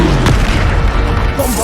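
Bombarda spell blast in the video game Hogwarts Legacy, a loud, deep booming explosion with a heavy low rumble sustained across the short moment.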